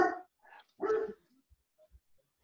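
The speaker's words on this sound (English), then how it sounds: "While the dog is figuring it out" A dog at home gives a few short barks, loud and close, then goes quiet apart from small faint sounds in an otherwise silent room.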